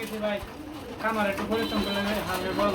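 Racing pigeons in a loft coo in repeated low, rolling calls close by, with men chatting over them for the whole stretch.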